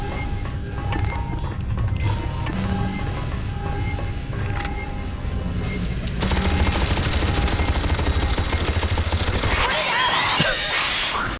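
A turret in Aliens vs Predator 2: Primal Hunt fires continuous rapid automatic gunfire, dense and loud throughout, over a busy game soundscape that swells louder in the second half.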